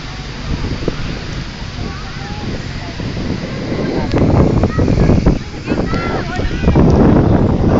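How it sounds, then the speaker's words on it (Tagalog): Strong wind roars and buffets the microphone in a constant low rumble, swelling louder in gusts while voices sit faintly underneath. "Lakas ang hangin, no?"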